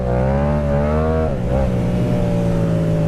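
A Yamaha MT-07 motorcycle engine falters while losing power, a loud close engine drone that holds steady, then dips and stumbles before settling into a rougher hum.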